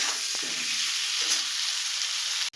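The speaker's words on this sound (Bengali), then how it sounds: "দিয়ে আমরা এটাকে আরেকটু ভাজা ভাজা করে নেব।" Onions fry with a little salt in a pan, giving a steady, loud sizzle that runs unbroken for the whole stretch before it cuts off at the end. A few soft stirring knocks sit under the hiss.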